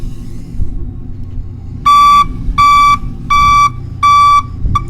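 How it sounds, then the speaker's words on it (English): A truck's backup alarm sounds during a pre-trip inspection, four loud, evenly spaced beeps with the start of a fifth, over a low engine idle. "We've got the backup lights as well as the backup alarm."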